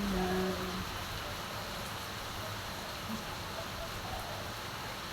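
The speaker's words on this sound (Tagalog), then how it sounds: "ang lakas ng ulan" Dense, even hiss of heavy afternoon rain pouring down in Singapore, continuous and moderately loud, with faint background noises.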